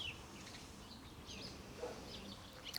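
Faint, scattered bird chirps sound at a distance over a soft outdoor background.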